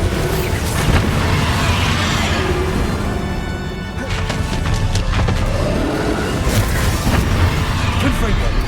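Bombarda spell blasts in Hogwarts Legacy on PS5, a dense, loud barrage of booms and crashing impacts over continuous battle noise, with voices calling out spells.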